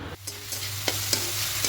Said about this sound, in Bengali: দিয়ে নারকেল কোড়া চিনি খুব ভালো করে মিশিয়ে নেব একটু চিনিটা গলে আসা পর্যন্ত